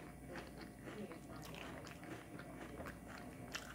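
Someone chews Magic Spoon cereal during a taste test, with quiet, close crunching and munching bites in an irregular rhythm and faint background noise.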